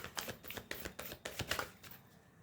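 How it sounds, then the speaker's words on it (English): A deck of oracle cards is shuffled by hand, a quick run of soft, close riffling flutters that fades out near the end, with no voices over it. "let me see some oracle cards for you"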